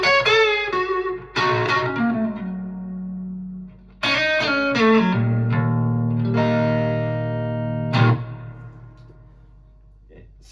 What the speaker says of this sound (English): classic Fender spring reverb